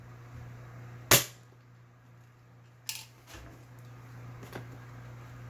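Two sharp, close snaps from an ASG M40A3 Sportline airsoft sniper rifle firing, each a crisp crack with short metallic ringing, set against a low steady hum.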